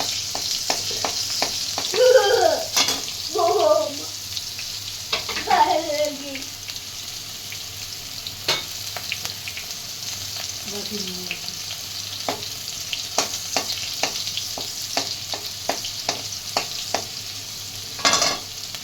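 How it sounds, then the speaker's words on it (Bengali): Onion frying in oil with cumin and a dried red chilli while chopped vegetables are turned in the pan, giving a steady sizzle broken by scraping stirs and a few clinks, close by with no talk. "পেঁয়াজটা ভাজবো বলে সবজিগুলো এপাশ ওপাশ করে নিয়েছি"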